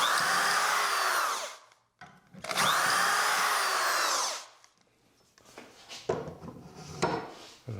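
A handheld power drill bores dowel holes in wood through a Dowelmax jig in two loud sustained bursts with a pause between, followed by quieter clattering and handling noises as the jig is repositioned.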